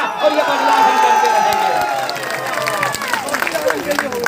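Audience at a political rally in Azamnagar bursting into applause and cheering, a dense, loud wash of many hands clapping close by with scattered whoops.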